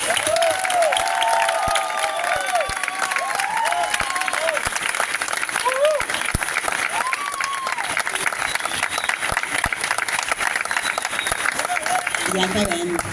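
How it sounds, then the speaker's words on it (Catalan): Applause from an audience at the Fundació Onada Torredembarra town proclamation during the Festes de Baixa Mar, steady and dense for the whole stretch, with scattered voices and cheering mixed in. "Volem demanar un fort aplaudiment per totes les persones de la Fundació."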